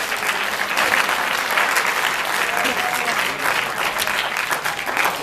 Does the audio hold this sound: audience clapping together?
yes